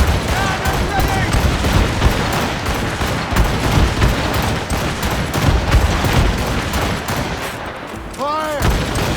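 Ship cannon volleys boom in a continuous barrage during a naval battle in the Assassin's Creed Rogue video game, with a voice shouting over the dense gunfire.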